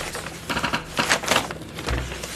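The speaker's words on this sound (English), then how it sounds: "So I'm typing in the word hawk." Keyboard typing at a computer, heard as a quick run of soft clustered key clicks up close, with a low thump near the end.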